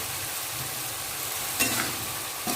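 Chana dal roasting in a pan, a steady close frying hiss with a couple of brief scraping stirs.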